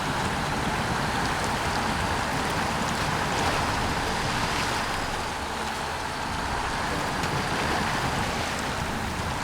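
A vehicle in SnowRunner drives through the thick mud of the Muddy Peninsula in Maine, a constant loud wash of churning, splattering noise with a steady engine drone underneath, unbroken for the whole stretch.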